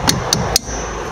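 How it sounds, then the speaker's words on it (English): Three sharp metallic hammer strikes land evenly spaced and close, tapping a part into place while fitting drum brakes on a 1998–2004 Ford Focus; the ringing fades after the last blow. "You should be able to hammer it on."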